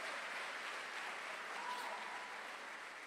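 A church congregation applauds in a steady, dense wash of clapping that holds evenly throughout, moderately distant and without voices on top.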